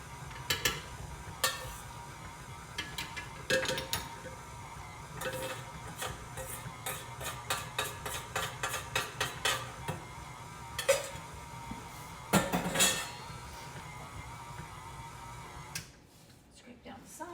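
An electric mixer or spoon works apple cake batter with milk in a bowl, giving irregular clinks and taps against the bowl over a low steady whir, with a voice talking over it.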